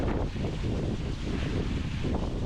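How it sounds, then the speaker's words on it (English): Steady, loud wind buffets the microphone on a sailboat at sea making about six knots in twelve knots of breeze, a continuous rushing roar with faint water wash beneath and no talking. "we're going 6 knots and there's 12 knots of wind"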